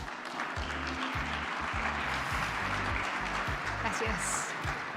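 An audience at a talk on AI and data claps for someone speaker as she is welcomed: a dense, steady wash of applause, with voices and music underneath.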